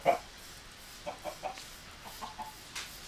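A chicken in Minecraft clucks in short, soft, separate bursts, an opening cluck followed by several quieter ones spaced through the clip, with no talking.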